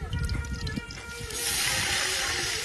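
Water poured into a hot pot of frying onions at an outdoor picnic cookout, a burst of loud hissing steam that rises midway and holds steady after some clattering handling.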